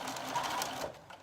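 A sewing machine, one of two set up side by side for making a summer skirt, runs in a short, quiet, even whirr of stitching close by.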